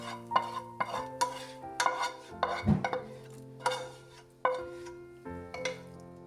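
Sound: stirring biryani ingredients in a cooking pot

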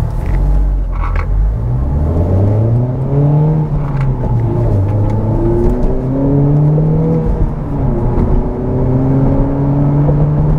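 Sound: 2021 Honda Civic Type R driving

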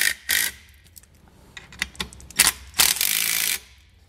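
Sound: ratchet tightening bolts into a brass fitting

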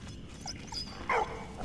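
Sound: dog barking in the video game Valiant Hearts

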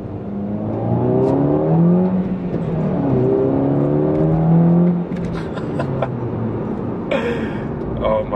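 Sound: Volkswagen GTI MK5 accelerating with turbo spool

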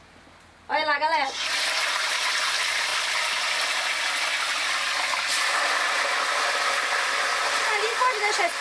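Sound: tilapia frying and splattering in hot oil

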